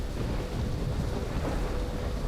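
Heavy rain roars in a TV drama scene, a dense, loud, steady wash that may carry distant thunder, with no voices.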